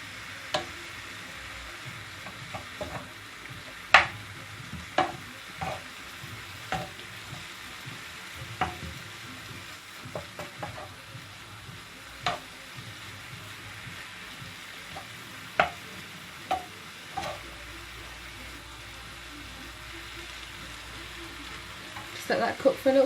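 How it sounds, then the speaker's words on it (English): Spinach mixture for a Slimming World lasagna cooking in a pan, giving a steady low sizzle with scattered clinks and scrapes as it is stirred, fairly quiet throughout. "Let that cook for a little bit so it all reduces down nicely"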